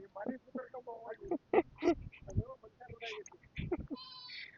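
Sheep bleating several times on a farm, wavering calls close by, mixed in with people talking.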